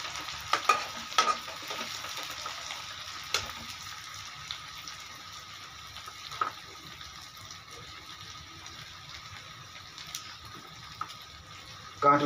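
Onions frying in a pan and being stirred, a low steady sizzle broken by scraping stir knocks and a few clinks, with faint talk in the background.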